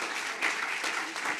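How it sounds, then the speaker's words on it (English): An audience claps for a speaker at a conference panel session, with dense, steady applause at moderate distance over the whole stretch and no voices on top. "Shall we give one final round of applause for our speaker?"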